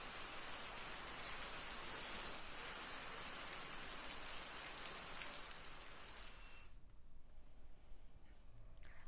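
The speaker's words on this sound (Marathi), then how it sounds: "जिल्ह्यातल्या अनेक भागांमध्ये पावसाच्या सरी बरसत आहेत" Steady rain falls over Maharashtra, around Ambernath and Ulhasnagar, as a soft, even hiss heard from a distance that thins out near the end. No voices are heard.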